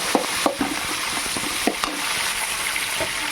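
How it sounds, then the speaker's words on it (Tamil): Capsicum is stirred into fried tomatoes in a pan, with a continuous close sizzle and several distinct scraping strokes and clinks of a spoon against the pan. "இப்போ நம்ம வந்து கேப்சிகம் போட்டுக்கலாம். அது நல்லா மிக்ஸ் பண்ணிவிட்டு"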